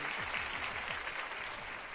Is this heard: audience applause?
yes